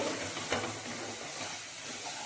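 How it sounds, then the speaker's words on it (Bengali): Spice masala with cumin, coriander and garam masala powders is stirred in a pan as it fries for an egg dish, giving a steady hissing sizzle with one brief scrape of the spoon. "তারপর মশলাটা আরো একটু ভালো করে নাড়িয়ে"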